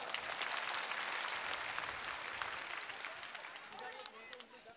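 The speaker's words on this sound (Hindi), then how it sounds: "जोरदार तालियां हो जाए एक बार।" A crowd at a school Republic Day celebration with a sparring match claps in a quick, scattered burst, fairly faint and distant, fading toward the end.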